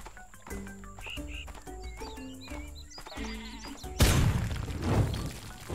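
Cartoonish sheep bleats from the sheep weapon in the Worms Clan Wars video game, a run of short warbling cries over game music, then a loud explosive burst near the end.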